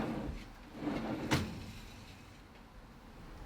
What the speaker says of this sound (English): We've got our first soft close drawer in.